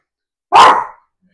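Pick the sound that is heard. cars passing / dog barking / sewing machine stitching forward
dog barking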